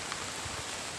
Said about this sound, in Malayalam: നല്ല മഴയാണ്, നല്ല മഴ ആയതുകൊണ്ട് നമ്മൾ ബൊലേറോ പിക്കപ്പ് എടുത്തിട്ട് തന്നെ പോകുന്നത്.